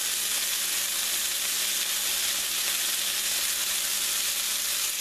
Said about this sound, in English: we just want to kind of sear them up